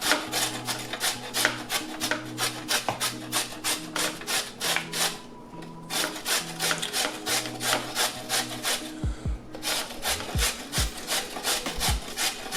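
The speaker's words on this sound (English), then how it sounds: "we're gonna go ahead and shred in some carrot" Carrot is grated over a bowl of cabbage for coleslaw, a steady, rapid rasping scrape in quick strokes with two brief pauses and a few soft knocks near the end.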